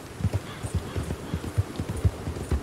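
Cookie, a horse in Red Dead, trots along with close, rhythmic hoofbeats in quick pairs over quiet game ambience, and no one talks.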